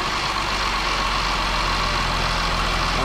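A supercharged 3.0 or 5.0 Jaguar/Range Rover engine, fitted with a new crank pulley, idles while warming up as a steady, unbroken mechanical hum and whine at close range.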